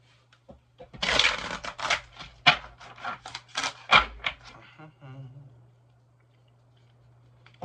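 Cards being shuffled in quick riffling bursts, crisp and close, settling into a few soft taps before going quiet; a low hum runs underneath.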